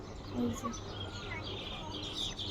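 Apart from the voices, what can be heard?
myna birds calling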